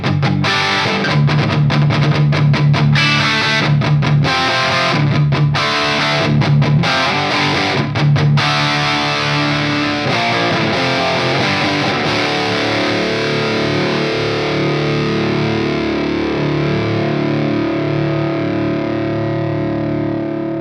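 An electric guitar with a heavily distorted tone and a touch of room reverb plays a dense chugging riff and then lets a thick chord ring out and slowly fade. It is loud and sustained, with no talking.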